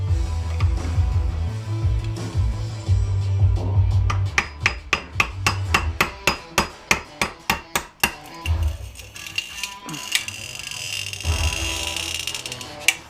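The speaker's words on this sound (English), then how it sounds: "Give her a squeeze in a vise. Maybe see if I can get this lens out." An LED fog light is squeezed in a vise to crack its waterproof lens housing open, giving a steady grinding, rubbing strain under a low hum, then a run of sharp cracking snaps in quick succession, and finally a hissy scraping.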